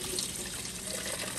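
Water pouring from a coin-operated filter dispenser into a container, a continuous splashing trickle close to the microphone, steady and moderately loud, with no voices.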